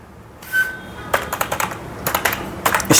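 Close computer keyboard typing: a quiet start, then irregular quick bursts of crisp keystrokes clattering in short runs, with no voice.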